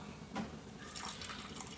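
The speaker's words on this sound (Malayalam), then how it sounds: "നമുക്ക് ഞണ്ട് വേവാൻ വേണ്ടിയിട്ട് കുറച്ച് വെള്ളം ഒഴിച്ച് കൊടുക്കാം കേട്ടോ" Water is poured into a pan of crab curry being cooked at home, giving a soft, faint splash and trickle that lasts a moment.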